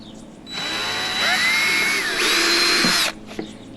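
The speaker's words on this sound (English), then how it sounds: "I'm going to drill a pilot hole right here in the center" Power drill boring a pilot hole in the center of a plastic part while fitting a Curt class 3 trailer hitch to a Jeep Gladiator Rubicon; a close, loud whine runs about two and a half seconds, rising in pitch, then stops.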